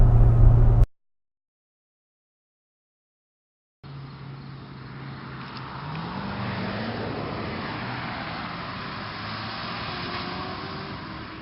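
A 2017 Corvette Z06 pulls away in a timed 0 to 60 run. After a short loud burst and a few seconds of silence, its engine note climbs steadily in pitch as the car accelerates, heard from inside the car.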